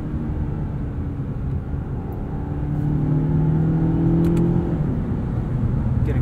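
A 2020 Mazda 6's turbocharged four-cylinder engine pulls hard under acceleration in sport mode, its tone rising steadily from inside the cabin, fairly loud with no voices.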